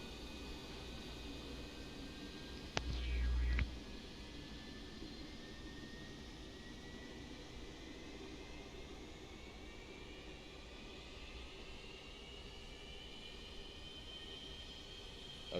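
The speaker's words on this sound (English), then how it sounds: "That's engine number 3 spooling up there." Simulated Boeing 727 jet engine, number three, spooling up in the X-Plane 11 flight simulator, heard from outside the aircraft: a steady, fairly quiet broadband roar with a rising whine, plus a brief louder thump early on.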